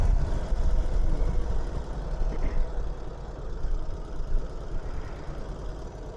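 An 80-year-old Indian motorcycle with a foot clutch and jockey shift runs steadily with a low, rumbling engine drone that is close and constant for the whole stretch, with no one talking.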